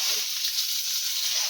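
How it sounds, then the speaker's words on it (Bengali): Fish frying in a pan in a home kitchen, a steady close hiss and sizzle of hot oil running without break and without talk. "তো দেখো এখানে মাছ ভাজা হচ্ছে"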